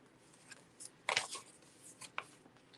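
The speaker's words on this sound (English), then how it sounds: "I'm grabbing my scissors." Scissors snip a few times at close range, with scattered crisp, short cuts and rustles amid quiet room tone and no talk.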